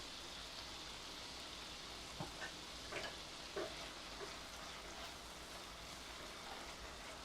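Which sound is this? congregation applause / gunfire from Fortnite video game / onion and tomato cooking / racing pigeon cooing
onion and tomato cooking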